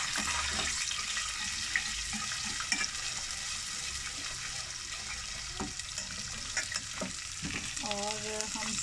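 Whole garam masala and ginger paste sizzle and fry in a pan as a spoon stirs, with a constant hiss, occasional scraping clicks and a short run of water near the end.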